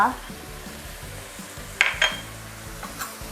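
Chicken liver and holy basil stir-fried over high heat give a low, continuous sizzle, with a few metallic spatula clinks against the pan.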